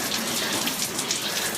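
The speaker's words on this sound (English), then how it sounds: "I can hear running water." Running water in an Incan toilet along the Inca Trail, a short, steady, close rushing flow with no voices over it.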